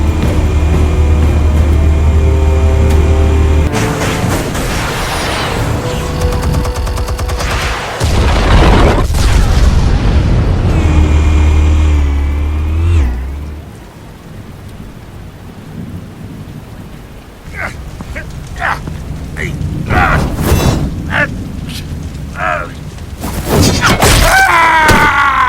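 Explosives detonate in Batman: The Telltale Series, heavy rumbling booms and crackling blasts rolling loud and close, easing to a quieter stretch of scattered debris before more sharp impacts flare near the end.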